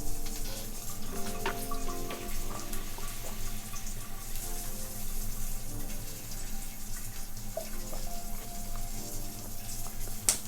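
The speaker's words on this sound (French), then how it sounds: "Vous le mettez sur votre robinet et toute l'eau coule par là." Tap water pouring steadily through a filter attached to a kitchen faucet, a continuous broadband rush with faint clinks of background activity, no talking.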